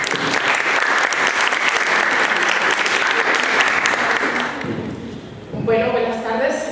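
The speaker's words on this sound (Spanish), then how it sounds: "La recibimos con un aplauso," An audience claps loudly and steadily to welcome a speaker at a talk on biodeterioration of cultural heritage, the applause filling most of the clip before fading, with a voice speaking briefly at the end.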